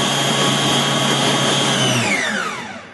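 An electric mixer whizzes a mix in a bowl with a loud, steady high whine that spins down and fades out near the end.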